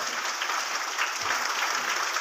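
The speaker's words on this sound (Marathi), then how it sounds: "त्यांच्यासाठी जोरदार टाळ्या वाजवा" Applause from a crowd of party workers at an Uddhav Balasaheb Thackeray faction one-day workers' gathering in the Tiranga wedding hall in Kalamb: dense, steady clapping filling the room, loud and continuous throughout.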